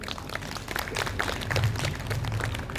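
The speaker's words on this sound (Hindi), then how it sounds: "अपने लिए एक ताली बजाइए" A seated audience at a Brahma Kumaris Maha Shivratri spiritual talk in DLF claps, making a soft, dense patter of many hands that runs evenly throughout and sounds faint and slightly distant.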